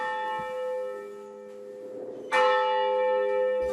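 A school bell rings at the end of classes, giving a clear, sustained metallic tone with rich overtones. A fresh strike partway through swells it louder before it rings on.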